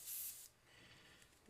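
An Iwata Micron airbrush sprays paint in a short, close, loud hissing burst that tails off into a softer, steady hiss.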